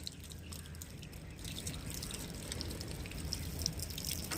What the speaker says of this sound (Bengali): আস্তে আস্তে করে জলের ছিটা দিন